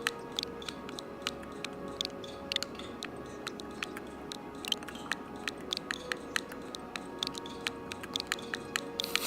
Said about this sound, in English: Typing on this is a pain.